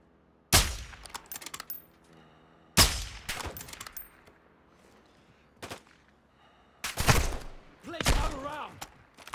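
Call of Duty gunfire cracks out in sharp, loud bursts, several separated shots and short volleys with echoing tails, with quieter game noise in the gaps.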